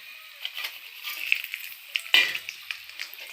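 Raisins frying in hot oil for kesari give a light, steady sizzle with scattered crackles and a sharper pop near the middle, close and clear, with no voices over it.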